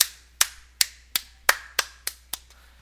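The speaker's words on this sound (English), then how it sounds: "little clap for him." About eight sharp, slow hand claps land at a steady, evenly spaced rhythm, close and distinct against near silence, with no talking.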